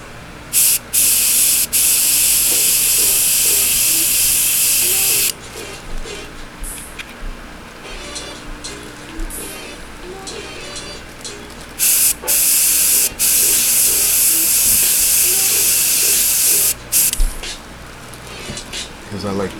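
Airbrush spraying paint in bursts of steady hiss, each lasting several seconds with quieter gaps between, close and loud over faint background music.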